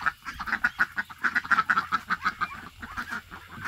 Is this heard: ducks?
yes